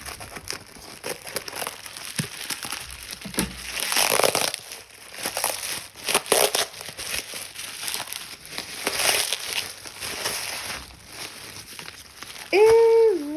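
Bubble wrap and plastic zip bags being unwrapped from a crafting supply package, with sustained close crinkling and crumpling in bursts, rising and falling throughout, and a brief voice near the end.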